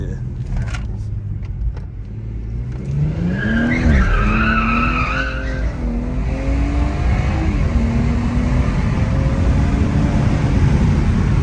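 Rear tires of a rear-wheel-drive BMW 340 squeal and spin while drifting, with a rising, wavering engine note and tire screech close by, and people talking over it.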